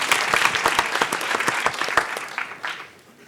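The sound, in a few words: audience applause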